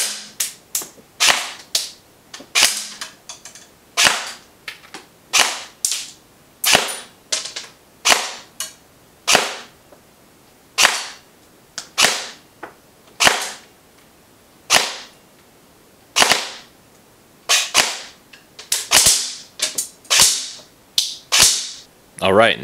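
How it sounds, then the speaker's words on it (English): An A&K SR25 airsoft rifle fitted with a new 550mm barrel fires about two dozen single sharp shots at irregular intervals, each a loud crisp crack with no talk. "with the new 550mm barrel, the gun is shooting an average of 380 feet per second with .3s"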